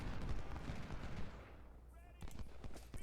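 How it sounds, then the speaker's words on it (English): Rapid musket and rifle volleys crackle in a Civil War strategy game battle at First Bull Run, dense bursts that thin out, then resume with sharp reports. "We're going to go ahead and start firing on this position."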